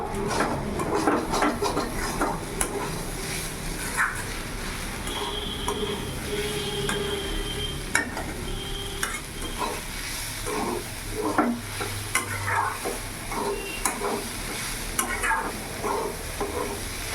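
A spatula scrapes and stirs frying banana stem in a pan over a raised gas flame, with repeated clinks and a low sizzle running under the clatter throughout.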